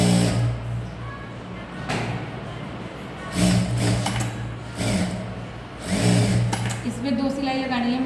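A sewing machine stitches a blouse in several short whirring runs separated by pauses, close and moderately loud, while a person talks intermittently over and between the bursts.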